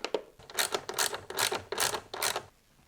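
A ratchet loosens a 10mm bolt on a switch panel mounting bracket, giving about five quick bursts of close, rasping clicks in an even back-and-forth rhythm before it falls quiet.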